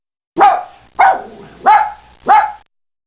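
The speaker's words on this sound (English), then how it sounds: "I have a dog I call Pap, who likes to sit on my lap" A small dog barks four times in an even rhythm, each bark loud, sharp and close, with brief silences between.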